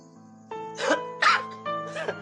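A person fakes a cough in three short, close bursts about half a second apart, over a steady low background tone.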